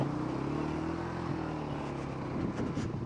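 A solo motorcycle rides through a shallow water crossing on a mountain road near Lake Saif ul Malook in Naran, its engine droning steadily and close with a constant wash of splashing and rumble, and no talk.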